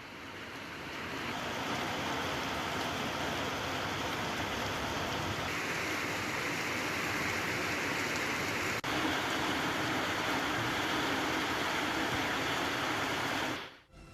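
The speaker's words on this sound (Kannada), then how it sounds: "ಭಾರೀ ಪ್ರಮಾಣದಲ್ಲಿ ಮಳೆ ಸುರಿತಾ ಇದೆ." Heavy rain pouring steadily in Karnataka, a dense, loud hiss that holds constant for the whole stretch before cutting off abruptly at the end.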